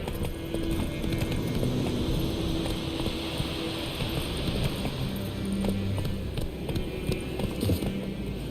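Roach, Geralt's horse in The Witcher 3, gallops with a steady, rapid clip-clop of hooves on the ground, continuous and fairly close, set against a wash of ambient outdoor noise.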